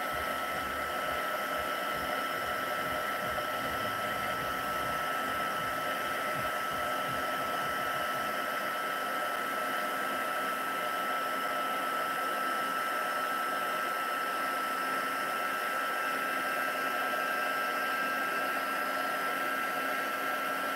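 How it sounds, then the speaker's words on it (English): A heat gun gives a steady, loud whooshing blast of hot air, running continuously, broadband and unchanging, with a faint high whine on top and no voices. "back in with the old heat gun. Let it heat up for a moment"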